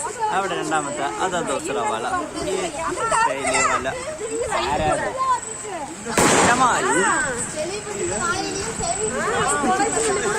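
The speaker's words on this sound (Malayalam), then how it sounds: "പ്രദേശവാസികൾ പടക്കം പൊട്ടിച്ച് കാട്ടാനയെ തിരികെ കാട്ടിലേക്ക് കയറ്റി." Firecrackers set off by residents to chase a wild elephant back into the forest from a Palakkad residential area give one sharp, loud bang midway, with a crowd chattering throughout.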